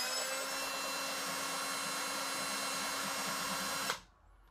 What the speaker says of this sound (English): make sure it's located properly, the drill bit through the flash hole.